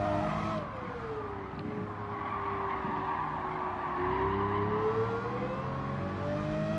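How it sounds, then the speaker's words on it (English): A race car engine in Gran Turismo 7 drones loudly and steadily, its pitch dipping and then climbing again under acceleration, with a tire-squeal hiss laid over the continuous roar. "Oh, what a beast of a car."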